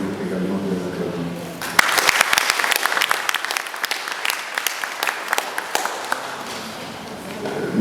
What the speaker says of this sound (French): je vous demande également de les acclamer